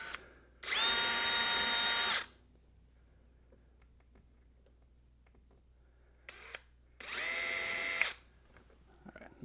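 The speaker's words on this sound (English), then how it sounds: "So I'm just going to drill it just to be safe." A power drill pre-drills a hole in a wall for mounting a Nest thermostat, running in two loud sustained bursts with a quiet pause between them.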